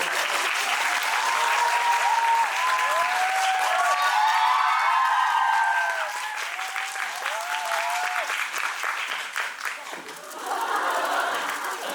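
A theatre audience at a musical's curtain-call stage greeting bursts into sustained, loud applause, dense clapping filling the hall, easing slightly midway before swelling again near the end.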